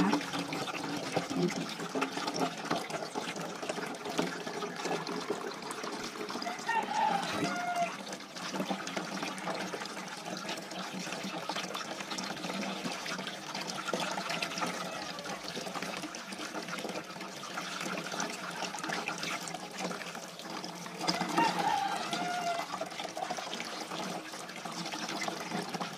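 Running water washes makapuno papaya seeds, a continuous splashing trickle held at a steady level throughout, close by with faint background sounds.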